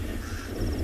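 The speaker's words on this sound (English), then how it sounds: "You can hear the crow calling behind me," A crow caws near an animal carcass during a South African safari: a brief, raspy call set against a constant rumble of outdoor background noise.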